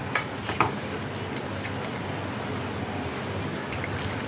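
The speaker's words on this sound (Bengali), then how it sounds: "কাসুরি মেথি দিয়ে আবার একটু ভালো করে নাড়িয়ে চাড়িয়ে নেব।" Paneer gravy being stirred in a pan after crushed kasuri methi goes in, a steady close sizzle and bubbling with a couple of faint spoon scrapes near the start.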